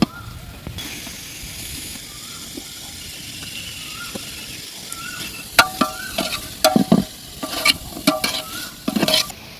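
Chopped tomato fries with curry leaves in a pan for village-style egg Maggi masala, a steady sizzle under scraping spatula strokes that grow louder and quicker toward the end.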